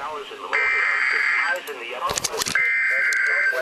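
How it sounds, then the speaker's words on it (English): NOAA Weather Radio emergency alert broadcast: a loud, steady electronic tone, a short burst of harsh data-like screeching, then the steady tone again, with a voice speaking briefly between the tones. "EAS is probably about to come on."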